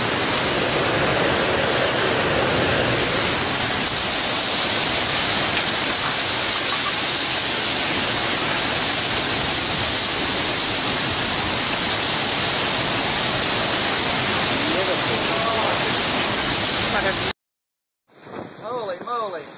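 Heavy rain during a hurricane roars as a loud, dense, steady downpour for about seventeen seconds, then cuts off abruptly before a brief burst of noise returns near the end.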